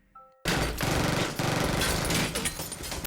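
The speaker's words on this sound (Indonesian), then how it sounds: "baku tembak pun terjadi" Dense automatic gunfire erupts during a shootout scene in a film. After a brief quiet lead-in, the rattle comes loud and sustained, with short dips between bursts over about three seconds.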